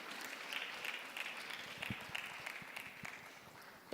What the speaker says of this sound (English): Please, can we clap for these two gentlemen?